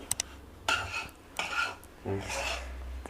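Rava (semolina) dry-roasting in a pan while being stirred for kajjikayalu, giving three distinct bursts of scraping and rattling with brief pauses between, close and fairly loud, with no talking.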